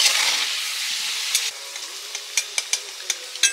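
Potatoes with a pinch of turmeric frying in hot oil, a steady close sizzle that eases after the first second or so, broken by sharp scraping clicks as the pieces are stirred and lifted from the pan.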